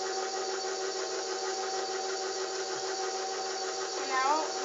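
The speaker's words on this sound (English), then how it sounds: "And now, while the mixer is running," An electric mixer blends cupcake batter with an egg, giving a steady, even motor whir that holds constant and close throughout, with a brief shift near the end.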